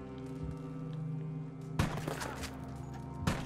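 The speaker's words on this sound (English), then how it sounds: "I'm actually shooting both of them, but they're not dying." Gunfire in the video game Red Dead Online, two sharp broadband bursts of shots cutting in over a steady low game drone, with no talk.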